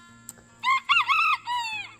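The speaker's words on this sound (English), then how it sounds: "if you see a chicken in here with me, it's because there is one" A small young hen calls indoors on a homestead, giving a few loud, close, drawn-out tonal calls in quick succession with brief gaps and no talking.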